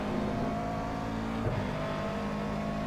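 A GT3 race car engine in a racing video game holds a steady, continuous drone with layered harmonic tones and only a slight shift in pitch midway, loud and close, with no speech.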